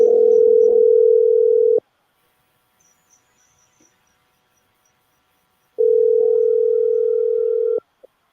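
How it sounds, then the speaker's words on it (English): A steady telephone tone sounds twice, each lasting a couple of seconds, separated by a long silent gap, with no ringing or voices. "Calling, it's not ringing."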